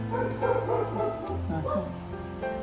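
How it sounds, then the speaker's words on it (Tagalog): Several dogs, including a Doberman, bark and yip outdoors in an excited, continuous cluster of overlapping barks and whimpers, moderately close. "Ang dami naming aso sa labas. May Doberman."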